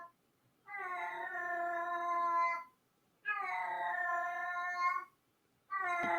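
A cat meows three times, close and fairly loud, each call drawn out for about two seconds with short silent gaps between them.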